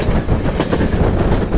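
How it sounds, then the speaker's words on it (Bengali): Benapole Express train gathering speed on the Jessore line, a loud, dense rumble of wheels on rails with steady clatter heard from on board, no voices. "আমরা দেখতে পাচ্ছি যে ট্রেনের গতি আস্তে আস্তে বৃদ্ধি পেতে শুরু করেছে"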